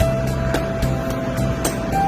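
Idling diesel engine of a Mercedes-Benz E220d W213 just after a remote keyless start, a steady low rumble with a faint constant whine, heard close and without voices.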